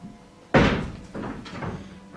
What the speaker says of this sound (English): How'd you knock the tree over?